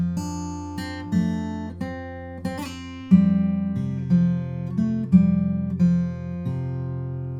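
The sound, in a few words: fingerpicked guitar, first bar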